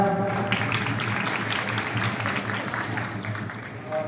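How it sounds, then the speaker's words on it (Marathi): A crowd applauds steadily at a Ganesh Chaturthi festival at Vivekanand College of Agriculture, a dense wash of clapping that fills the hall for several seconds with faint crowd murmur beneath. "तर जोरदार टाळ्या."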